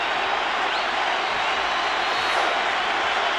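A Yankee Stadium crowd at a 1998 baseball game between Atlanta and the New York Yankees roars in a steady, dense, distant cheer with no clear breaks.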